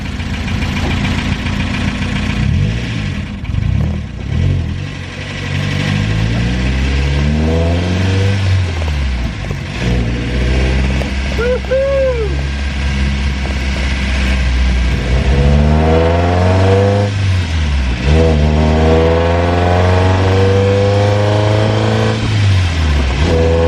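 Datsun fitted with a Miata engine driving, a loud close engine droning and revving up through repeated gear changes, pitch sweeping upward several times with brief dips between shifts.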